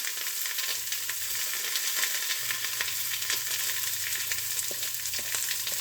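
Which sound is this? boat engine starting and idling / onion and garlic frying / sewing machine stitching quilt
onion and garlic frying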